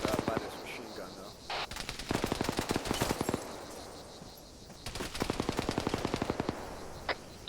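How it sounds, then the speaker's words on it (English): Rapid bursts of machine gun fire in a team-based first-person shooter video game, two long volleys of evenly spaced shots with a short gap between and a few scattered single shots, loud and close, with faint voices under it. "I'm kind of pinned down by this machine gun, though."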